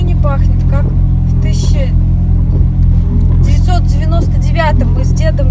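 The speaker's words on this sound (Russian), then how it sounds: "Короче, машина завелась. Шумит, теперь ничего не слышно будет." A car engine that has just started runs with a low, steady rumble in the countryside, while people talk over it the whole time.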